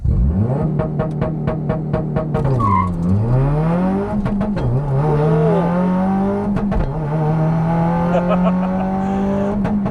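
A Subaru WRX launches hard with launch control, the engine revving loudly and climbing in pitch through several quick gear shifts, each marked by a brief dip and pop before the note rises again, with a voice briefly heard over it.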